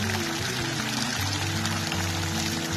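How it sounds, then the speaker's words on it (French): Water jets splash steadily into a stone fountain basin at the Alhambra in Granada, a continuous close rushing and pattering with a faint low hum beneath. "Écoutez-moi ce bruit magnifique. Cette merveilleuse fontaine. Avec la projection de l'eau"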